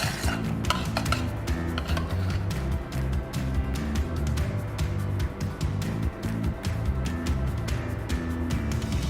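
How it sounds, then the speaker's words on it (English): A spoon stirs lemon beurre blanc sauce in a pan for baked snapper, making repeated metallic clinks and scrapes against the pan over steady background music. "Give it a nice stir."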